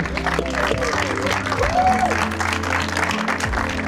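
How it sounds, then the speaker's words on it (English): Applause from a crowd, steady clapping with some cheering, with a voice and music-like tones running underneath. "I would like to give them a big, big applause"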